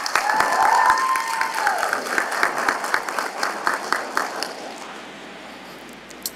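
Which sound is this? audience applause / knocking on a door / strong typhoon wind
audience applause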